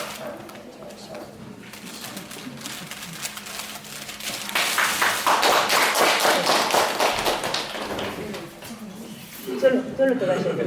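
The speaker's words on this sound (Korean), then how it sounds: "지금 박수도 주시고" Audience applause at a graduation ceremony for a seniors' college, where names are read out and awards and keepsakes are handed over. Scattered clapping builds in the middle and then thins out, with talk running throughout.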